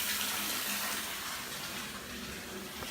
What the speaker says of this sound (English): you're gonna wanna wait for the bathtub to be filled up